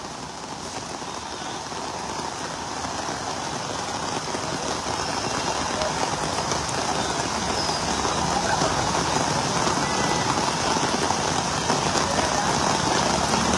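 Heavy monsoon rain pours near the Concord building in Alkapuri, where the street is flooded, a dense, continuous roar that builds slightly, with a faint idling engine beneath and no talking.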